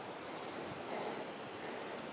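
The flooded Aranyos river rushing past, a steady, dense roar of flowing water that stays even and loud throughout with no pauses.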